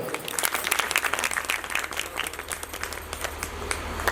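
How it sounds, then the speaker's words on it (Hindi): An audience claps at a Maa Bhagwati devotional jagran, a dense, steady patter of many hands rising from a crowd with no voices over it. "एक बार तालियां हो जाती।"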